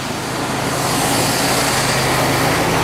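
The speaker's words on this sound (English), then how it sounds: "You hear the traffic?" Steady road traffic roars continuously close by, a broad wash of car, bus and truck noise with no pauses and no voices.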